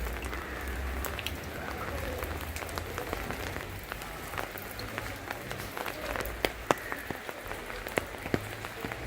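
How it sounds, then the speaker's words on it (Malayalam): Rain falls in a soft, continuous patter outdoors, with scattered sharper drips standing out near the end; the whole sound is faint and even. "ഇന്ന് മഴയാണെന്ന് തോന്നുന്നു"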